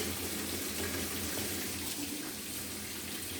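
Tap water rinses aquarium equipment in a sink, a steady broadband splashing flow that holds evenly throughout at moderate level, close by, with no talking.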